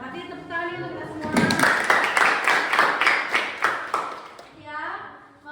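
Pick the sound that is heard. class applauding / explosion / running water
class applauding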